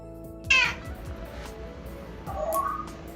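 A cat meows twice, a sharp, bright call near the start followed by a softer, lower meow near the end, with quiet room noise between the cries.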